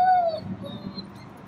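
A dog gives a brief high whimpering whine that trails off, followed by faint low background noise.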